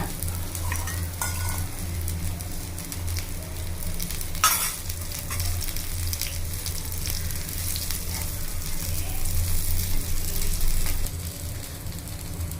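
Channa kebabs shallow-frying on a low flame, a steady close sizzle of oil with occasional spatula scrapes and clacks as they are turned, growing slightly louder near the end, with no speech.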